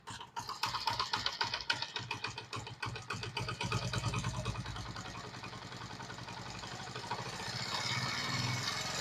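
A motorcycle engine idles low and slow during a carburettor idle-speed adjustment, its close, steady putter falling off in rhythm as the revs sag toward stalling, with no voices over it.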